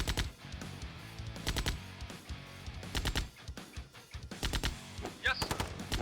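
An airstrike in Command & Conquer Tiberium Dawn, heard as repeated rapid bursts of machine-gun fire in clusters of sharp pops at moderate volume, with a voice briefly heard among them.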